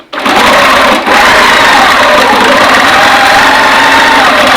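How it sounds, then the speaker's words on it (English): A sewing machine runs steadily through free-motion stitching on a safari-themed quilt, a loud, continuous whirring hum with one brief dip near the start and no talking. "I'm going to stitch back down here, and then I'm going to stitch up this leg and around the ear"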